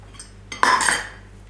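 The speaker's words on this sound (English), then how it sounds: "just mix that all together, and it comes like a beautiful moist carrot mixture" A utensil scrapes and clinks against a bowl as carrot muffin batter with vegetable oil is stirred, one short close burst of metallic clatter rising over quiet background hum.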